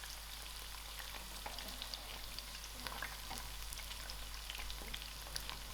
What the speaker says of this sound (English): My second batch of bhindi is fried. Just going to remove from the oil.